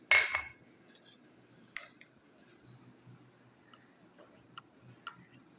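A spoon scraping and clinking in a bowl while mixing cookie dough with powdered sugar and oil, with irregular light taps and stirring scrapes at close range and a sharper clatter near the start.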